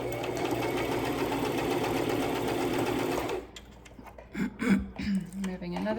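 A sewing machine top stitching a lanyard runs in a fast, steady close whirring chatter for about three seconds, then stops, leaving soft handling rustles and a voice talking.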